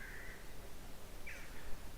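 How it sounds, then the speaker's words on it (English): Two faint caws from crows some distance away, about a second apart, over soft outdoor background noise at a famine graves cemetery in Lismore, County Waterford. "You hear the crows, we live here."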